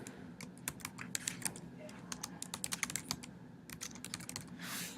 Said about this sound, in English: I can go ahead and type that title in